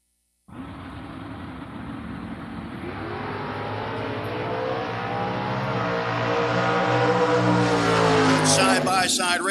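Door-class drag race cars launching side by side, a loud engine roar that rises steadily in pitch and volume as the cars accelerate away, with a commentator talking over it.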